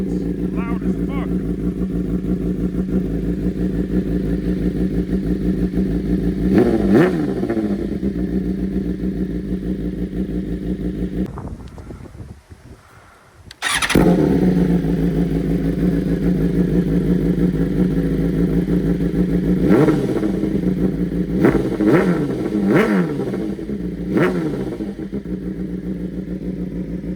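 A BMW S1000RR fitted with an Arrow Pro Race titanium slip-on exhaust runs loud and close, with a steady throbbing idle broken by sharp rev blips, a brief near-silent gap, then more quick throttle bursts.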